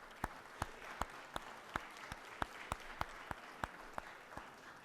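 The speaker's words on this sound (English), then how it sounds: "let's give them a big round of applause" Applause in the Georgia Senate chamber honoring MS survivors and advocates, heard as a quiet, sparse round of distinct hand claps spaced fairly evenly, roughly a dozen in all.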